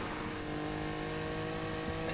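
Lamborghini engine in the racing video game Need for Speed Heat, a steady loud mechanical drone with sustained engine tones running throughout, no speech over it.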